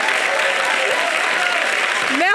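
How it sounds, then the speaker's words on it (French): Audience applause at a broadcast show featuring a student arts and culture ensemble, a continuous loud wash of clapping, with a voice briefly audible beneath it. "On peut s'applaudir encore."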